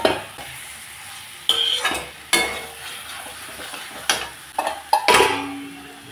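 Eggs go into a hot pan for a thin egg curry, adding to a steady background sizzle. Loud scraping and clinks of a spatula stirring against the pan come in irregular bursts, close up.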